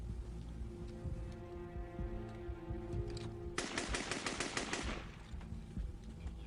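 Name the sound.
hijacker firing a gun at everything around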